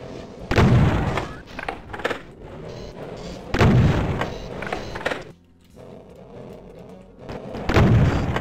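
Heavy gunfire in the Doom 2 video game comes in three loud, booming bursts spaced a few seconds apart, with quieter game noise rumbling between them.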